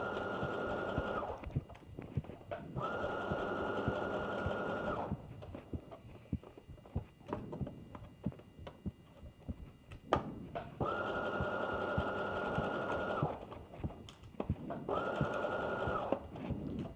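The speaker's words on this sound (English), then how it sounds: "I just need to sew all the way up using a basting stitch." A sewing machine running a long basting stitch up the seam of a slip dress, sounding in several loud, steady bursts of whirring separated by quieter gaps with light handling noise and clicks.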